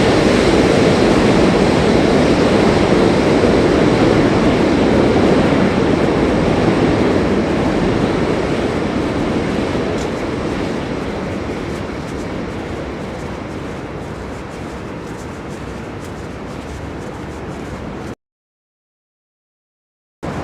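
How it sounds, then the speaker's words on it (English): Loud, steady rumble and clatter of a New York City subway train crossing a bridge between Brooklyn and Manhattan, continuous for most of the clip, fading slightly before cutting out near the end. "Which subway line is this?"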